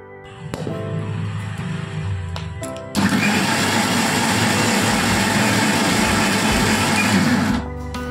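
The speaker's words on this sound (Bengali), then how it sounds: "এরপর ওই পেস্টের মধ্যে নারকেল কোড়া দিয়ে আমি আর একবার বেটে নেব।" An electric blender grinds rice paste with grated coconut, a loud steady whirring drone that surges louder a few seconds in and runs continuously before easing off near the end, with no talking.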